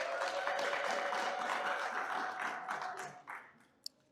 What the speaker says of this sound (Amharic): ለራሳችሁ አጨብጭቡ።